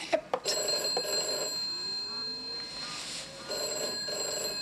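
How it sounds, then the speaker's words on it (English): An old telephone bell rings in a quiet indoor scene, two bursts of trilling rings separated by a pause, moderately loud with faint room ambience. "Aren't you going to answer the phone?"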